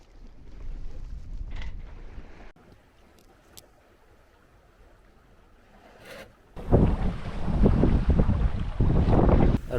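A boat sails along the Svalbard mountains toward Ny-Ålesund under the polar day, with a moderate wind and water rush that drops lower midway, then swells into loud, buffeting wind noise on the microphone for the last few seconds.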